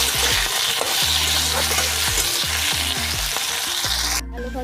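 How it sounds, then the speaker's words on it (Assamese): Chopped potatoes fry in hot oil with onions, a loud, dense, close crackling sizzle that runs steadily throughout, with a few spatula knocks and no voices. "এতিয়া মই কাটি থোৱা আলুকণ অকণমান ফ্ৰাই কৰি ল'ম।"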